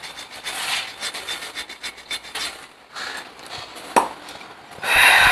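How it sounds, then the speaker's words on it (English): Brake drums on a 15-year-old Maruti 800 under restoration get scrubbed clean with steady, rhythmic rasping and rubbing strokes up close, one sharp knock near the end and a louder burst of scraping at the finish. "That's the cleaning of the brake drums going on."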